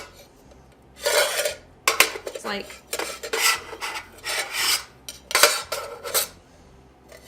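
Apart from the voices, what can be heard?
motorcycle camping cook set pots and kettle clanking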